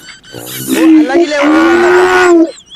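A cow at a Bangladeshi cattle sale lets out one long, loud, close moo that rises and holds for about two seconds before breaking off.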